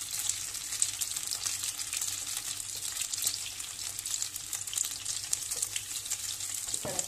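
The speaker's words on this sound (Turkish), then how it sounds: "Şu çevirmediğim yerlerini kızartacağım." Steady, close crackling and sizzling of cauliflower frying in hot oil, with occasional soft stirring and no voices.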